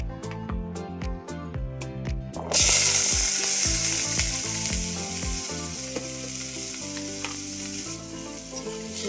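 Daliya frying and sizzling in oil with carrot, potato, tomato and ginger paste, a loud steady hiss with repeated clinks and scrapes of a spoon stirring in the pan, close up and without talk.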